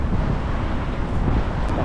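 Wind gusting outdoors on a hot, breezy day near a river where fishing gear lies about, a steady close rumble buffeting the microphone throughout with no talk.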